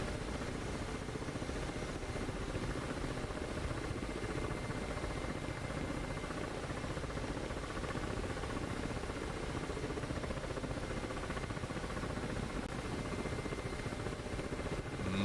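A helicopter in a flight simulation game, a steady dense rotor and engine roar droning without a break, loud and constant with no talking.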